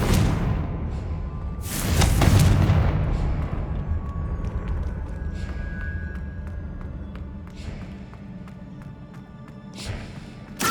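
In Hogwarts Legacy, a Confringo fire spell bursts into a loud, booming explosion with a whoosh, then fades into a low rumbling tail with scattered game effects.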